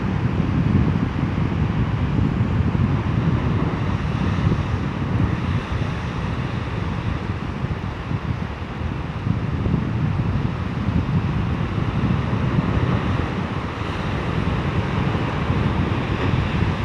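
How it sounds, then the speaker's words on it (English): Pacific Ocean surf on the Norfolk Island coast rumbles steadily under gusting wind that buffets the microphone, a continuous broad wash of waves with no voices. "even on a calm day, the erosive powers of the Pacific Ocean were on display"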